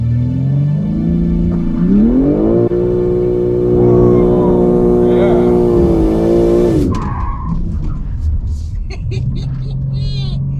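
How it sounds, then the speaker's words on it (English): A BMW M3 Competition xDrive makes a hard launch, its engine revving up loudly through rising harmonic sweeps with rumble and tire noise, heard from the cabin, then the revs drop away and the car settles into a lower drone. "I'm gonna try a hard launch here, see what she does."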